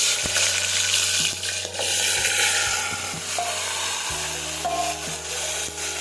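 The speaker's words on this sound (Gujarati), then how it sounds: "હવે આપણું તેલ છે તે ગરમ થઈ ગયું છે. હવે આપણે તેમાં રાઈ અને જીરું નાખીશું." Chopped vegetables for a Gujarati curry of brinjal, potato, tomato, drumstick and peas fry in hot oil with mustard seeds, cumin and asafoetida, a loud, steady, close sizzle with faint scraping stirs and no talking.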